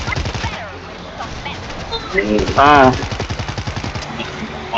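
Machine-gun fire in the zombie shooter World War Z, Marseille chapter, with rhythmic bursts of automatic shots running under excited voices throughout.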